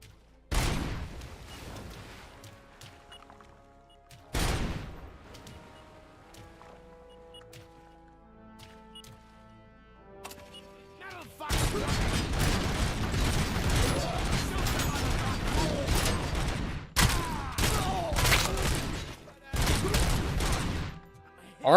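Turret gunfire in the Robocop video game, a few sharp shots early on followed by long loud stretches of rapid sustained firing with mechanical clatter, no talk.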